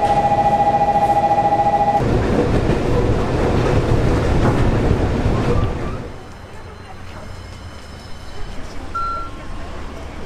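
A JR train ride to Matsushima, Japan: a dense rumbling rail roar with a steady tone at the start, then the noise drops to a quieter cabin hum with light rattles.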